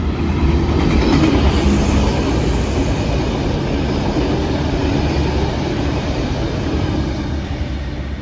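A Melbourne train passes St Albans station, a loud, continuous rumble and roar of wheels on rail that holds steady throughout with a faint high whine above it, and no voices.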